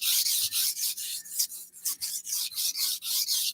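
Kitchen knife drawn repeatedly across a sharpener, a steady rhythm of bright, raspy scraping strokes, each about a quarter second, close and fairly loud with brief gaps between.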